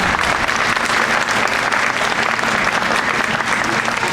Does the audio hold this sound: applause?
yes